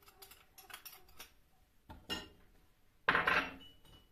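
A utensil scrapes and clinks against a bowl in a few short, quiet strokes as yeast is stirred to dissolve, the last stroke the loudest.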